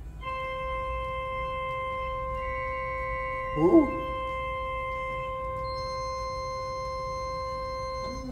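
A church organ plays a high note on its piccolo stop, a thin, whistly sustained tone held steadily for several seconds, with a brief exclamation from a voice partway through.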